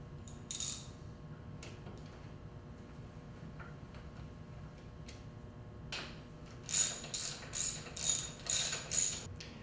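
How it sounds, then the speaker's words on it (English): Transmission assembly being refitted to the bottom of an E43 43cc 2-cycle powerhead: faint mechanical clicks and handling noises, then a run of five or six crisp ratchet clicks in a steady rhythm near the end. "The last thing you do would be to reinstall the transmission assembly to the bottom of the motor."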